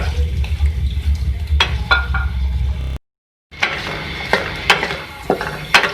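Chicken liver (kaleji) fries in a karahi with ginger garlic paste, a steady close sizzle under scraping and stirring clatter, cut by a short silence before the frying resumes.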